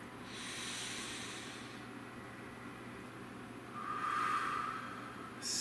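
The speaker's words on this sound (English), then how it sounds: "So please, nice deep breath." A slow, deep breath drawn in and let out close to the microphone, a soft airy hiss that swells near the end, alone with no talking.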